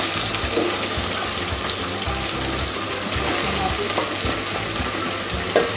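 Bottle gourd frying in a pan for vegetable sambar makes a dense, constant sizzle with occasional stirring clatter, close and loud, with no talking.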